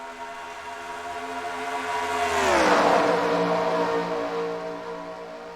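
Stock cars in a Duracell Cup Series duel race accelerate away at the start, a loud engine roar whose pitch sweeps down as a car passes close by mid-clip, then a steady drone as the field climbs through the gears.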